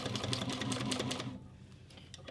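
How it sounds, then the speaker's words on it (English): Sewing machine running a quarter-inch seam along the edge of leather for a two-toned boxy bag, steady rapid stitching loud for over a second, then stopping, with the motor quieter and a few faint clicks after. "I'm going to sew along this edge about a 1/4 inch seam allowance"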